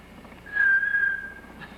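A recorded whistle from a seven-year-old girl, played back on a machine: one clear, sustained tone held for about a second at moderate loudness, with no talking over it.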